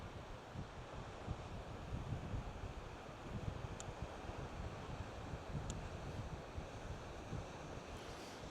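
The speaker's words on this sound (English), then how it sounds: "The wind's definitely picked up now." Strong wind roars across a rocky headland beach with no sand, buffeting the microphone in a dense continuous rush while surf churns underneath, no voices present.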